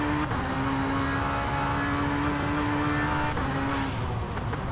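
A race car engine in the rFactor 2 racing game drones steadily at high revs through a multiplayer qualifying lap, its pitch holding near constant with a brief dip around a gear change, loud and continuous throughout.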